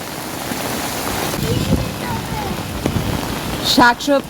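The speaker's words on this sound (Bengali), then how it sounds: "দেখেন কি বৃষ্টি।" Heavy rain pours steadily onto surfaces outdoors as a dense, loud hiss, with a brief burst of voices near the end.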